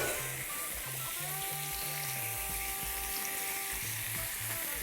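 Bacon sizzles on a burger grill with a steady, close, even frying hiss throughout, with a faint tonal hum running underneath and no talking.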